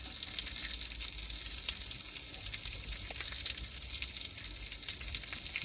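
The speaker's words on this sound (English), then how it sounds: "We're going to fry them down first, just to add, as I say, a little bit of body to the sauce." Halved tomatoes frying in a pan on a camp stove inside a hot tent, giving a steady, fairly quiet hiss and crackle with no voices.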